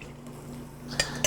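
Stirring beef stock into a roux for gravy gives a quiet scraping of a utensil in a pot, ending in two sharp metallic clinks against the pan.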